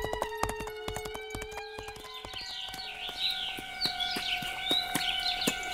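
Horse hooves clip-clop steadily at a walking pace on a hard road, near and moderately loud, with faint birdsong in the background and no talk.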